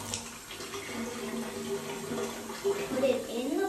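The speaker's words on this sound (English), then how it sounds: "First, you put in hot water." Hot water running and splashing at low volume as it is poured into a bottle for a crush-bottle experiment, a continuous faint trickle with some background noise.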